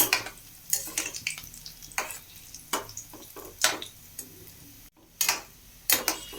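Jackfruit seed kola balls frying in a pan, with intermittent bursts of sizzling and scraping as they are turned, separated by quieter gaps of soft bubbling, close and fairly loud.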